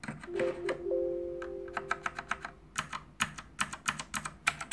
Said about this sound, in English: So I changed this yellow PBT keys as red switches, so very smooth.